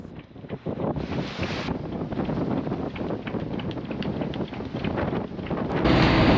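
A sailboat heads south around Cape Brett, New Zealand, toward Kawau Island. Loud, continuous wind roars and buffets the microphone with gusts, and water rushes along the hull throughout.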